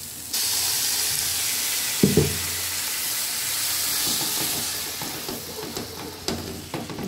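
Water hits frying spices and grated coconut in a pan for Bengali-style khichuri, setting off a sudden loud, steady hissing sizzle that runs throughout with a few light knocks.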